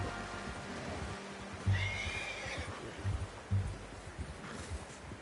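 A horse in Red Dead Redemption 2 gives a short, moderately loud whinny partway through, over steady outdoor ambience with a few soft hoof-like thumps.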